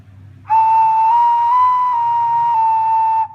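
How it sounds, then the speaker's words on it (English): A handmade clay ocarina plays one clear, breathy whistle tone held for about three seconds with a slight wavering pitch, loud and close, with faint low background noise underneath. "You might drop your ocarina once it makes a noise."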